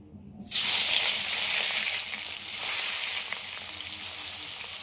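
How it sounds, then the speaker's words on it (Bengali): Fish rubbed with salt and turmeric drops into hot mustard oil in a kadai, setting off a sudden loud, close sizzle that keeps hissing steadily, with slight swells in intensity. "তেলটা গরম হয়ে গেছে এবার নুন হলুদ মাখিয়ে রাখা মাছগুলো ভেজে নেবো"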